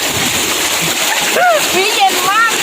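Water splashing at a waterfall, a broad steady wash of spray and sloshing throughout with excited voices calling out over it.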